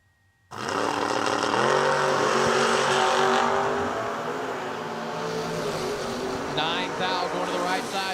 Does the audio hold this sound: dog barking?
no